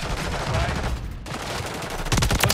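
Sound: gunfire in a video game, Call of Duty camo grinding

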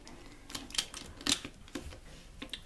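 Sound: Pyraminx puzzle cube clicking

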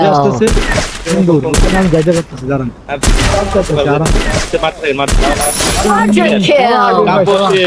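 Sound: gunfire in a battle royale video game

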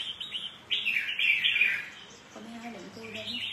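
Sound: caged songbird singing

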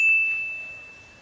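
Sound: phone ringtone

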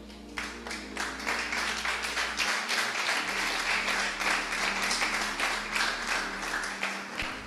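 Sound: church congregation applauding the king

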